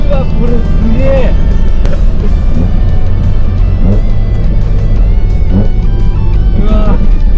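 Strong, steady engine roar from a carbureted Mazda Roadster while driving, the intake sound coming from the front, loud and continuous with rising and falling revs under excited talk from people inside the car.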